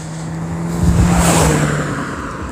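A car engine revs up and swells to a loud, rough roar in the middle, then eases back down, heard up close with no talking.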